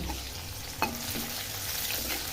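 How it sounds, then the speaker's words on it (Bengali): Onions sizzle steadily in a hot pan, with a single sharp scrape of stirring partway through and a continuous frying hiss throughout. "এই পেঁয়াজটা ভাজা ভাজা হয়ে গেছে"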